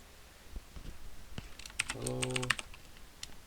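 Someone typing on a computer keyboard, a short quick burst of close, crisp key clicks after a few isolated taps, in a quiet room.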